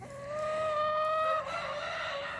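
A rescued chicken's drawn-out, squawking call rings out close by in a pen, with other fowl faintly clucking in the background.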